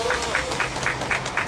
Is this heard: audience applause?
yes